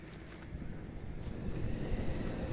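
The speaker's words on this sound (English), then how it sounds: "That's the wind." Wind in The Last Door video game blows as a low, rumbling, steady rush that swells slightly toward the end, quiet and alone.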